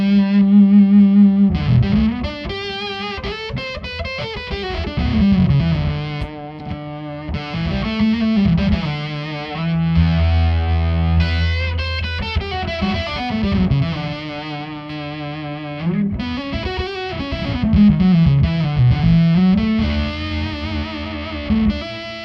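An electric guitar played through a Myriad Fuzz distortion pedal gives thick, saturated fuzz tones: sustained notes and bending phrases with pauses between riffs, close and loud, with no talk.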